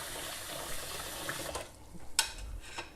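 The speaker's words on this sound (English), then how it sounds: "You could rinse it out in the water, or you could leave it." Lentils being rinsed under a running kitchen tap give a faint, steady hiss of flowing water throughout, with a few soft splashes and clinks near the end.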